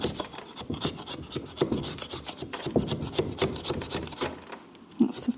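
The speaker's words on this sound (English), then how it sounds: "again scrape it back to reveal the seam all the way along" A tool scraping a thin layer of plaster back along the seam of a ceramics plaster mould in an art school workshop, continuous close rasping strokes with a firmer scrape near the end.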